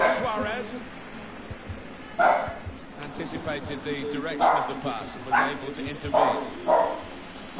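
Dogs in a room bark and yip in short sharp bursts, several separate barks spaced irregularly, fairly loud and close, over a video game's football commentary and a person talking.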